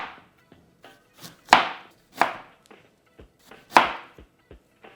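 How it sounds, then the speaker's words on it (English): A knife chops spring onion and ginger on a board for a hot pot soup base: three sharp, close chops among several lighter taps, with no talk. "Slice a spring onion and a large piece of ginger."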